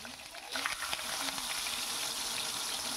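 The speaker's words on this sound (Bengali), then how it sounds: "কড়াইতে তেলটা গরম হলে পরে মাছগুলো আমি এখানে ছেড়ে দিচ্ছি।" Chara pona fish sizzle and spit as they fry in hot mustard oil in a kadai, a quiet, steady crackle that grows busier after the fish go in.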